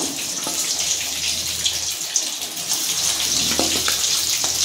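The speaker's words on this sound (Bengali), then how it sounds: "এবার সয়াবিনগুলো ভেজে নেব।" Soybean chunks frying in a pan of hot white and mustard oil, a steady bright hiss of sizzling that runs throughout at close range with small crackles and pops, and no talking.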